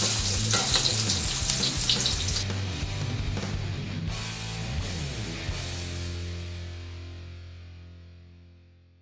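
Shallots and garlic fry in hot oil in a pan, a loud crackling sizzle with scraping stirs early on, gradually calming and fading out toward the end, with no talking.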